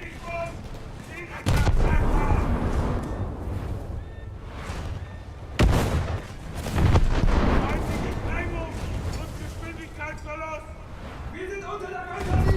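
Heavy booming blasts and rumbling gunfire as a German cruiser takes fire and explodes in a top-tier naval battle video game, several loud impacts in a row under a continuous roar, with a voice talking over it.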